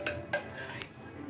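Metal clinks and scrapes as a hot piece of charcoal is set down in the middle of a clean metal pot holding chicken for smoking, two sharp clanks near the start, then softer rattling, no talk.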